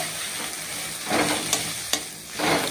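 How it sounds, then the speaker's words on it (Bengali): Chilli powder and spices frying in oil for a Bengali rohu fish curry, with a steady sizzle and a few stirring scrapes, one sharp clink near the end. "এখন দিয়ে দেবো লঙ্কা গুঁড়ি। ভালো করে ভেজে নেব।"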